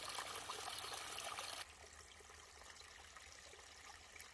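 Water trickles and drips steadily from forest leaves after morning fog has lifted on the Appalachian Trail, a soft continuous patter that is slightly louder at first, then settles into a quieter, even dribble.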